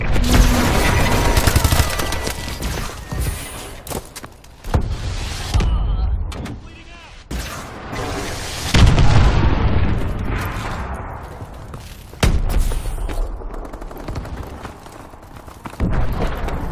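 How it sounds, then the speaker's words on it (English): Enemy missile strikes in a Call of Duty game slam down in loud, repeated booming explosions with rolling rumble and crackling debris, layered over dense gunfire, with brief in-game voice callouts between blasts. "Enemy missile strikes!"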